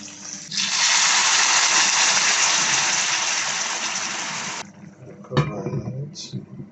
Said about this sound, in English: We're gonna just add some water to it now.